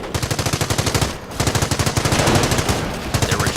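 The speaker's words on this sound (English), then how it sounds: "The MG emplacement is suppressing the enemy troops." A fixed machine gun emplacement fires rapid, loud bursts in a Company of Heroes Normandy battle, with sharp rhythmic shots in two long strings split by a brief pause.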